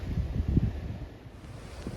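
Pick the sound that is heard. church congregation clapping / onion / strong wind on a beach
strong wind on a beach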